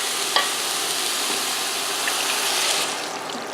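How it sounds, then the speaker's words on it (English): Chopped parsley, celery, carrots and browned lamb go into a stew pot for Irish lamb stew, giving a loud, steady sizzling hiss with a small thump near the start. "Add my chopped parsley here, my celery, carrots, add my lamb back in"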